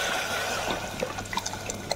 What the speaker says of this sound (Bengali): এর মধ্যে এখন এই জল দিয়ে দিচ্ছি আন্দাজ মতো